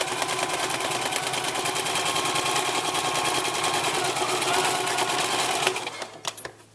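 Sewing machine stitching the side seams of a fabric treat bag, a fast steady mechanical whirr of rapid needle strokes that runs continuously before stopping near the end with a few clicks.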